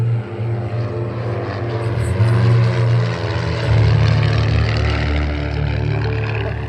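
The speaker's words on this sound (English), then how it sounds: "Now he pours in the power on the engine and he slips right back into position." A propeller airplane flying in formation at an airshow drones loudly and steadily, its engine swelling as power is poured on, with no talk.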